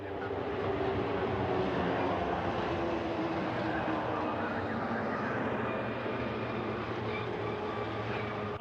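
Soyuz rocket launch with the first-stage engines firing: a steady, dense, continuous roar that stays loud and unbroken throughout, with no pauses or distinct events.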